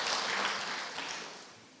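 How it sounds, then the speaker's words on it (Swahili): Applause at a Maendeleo ya Wanawake women's meeting in Machakos: a crowd claps steadily for the women being honoured, a dense hiss-like patter heard from a little distance that gradually fades. "Makofi kwa mama hawa wote."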